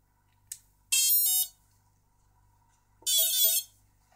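A brushless motor's ESC, run from an Arduino, beeps on arming after the battery is connected: a short tick, then two loud electronic buzzing tones about two seconds apart, close and alone with no talk.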